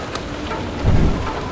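A hailstorm in the video game Far Lone Sails, dense steady pattering of ice with a low rumbling swell midway, with no voices.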